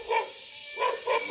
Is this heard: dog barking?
yes